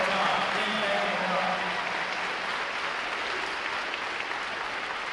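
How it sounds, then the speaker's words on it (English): An audience at a U.S. Navy recruit training graduation applauds in a broad, continuous roar of clapping that starts loud and eases slightly, with a voice briefly audible early on. "Round of applause. One more time."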